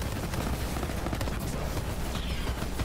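Rapid gunfire from a weapon in the video game Borderlands 3, a dense continuous volley of loud shots and impacts filling the whole stretch.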